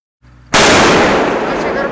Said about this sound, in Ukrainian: моє діло тільки нажати кнопку пострілу